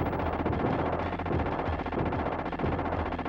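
Super Scope light gun video game gunfire rattles on in a continuous rapid burst, loud and dense through the whole stretch with no pauses and no voices.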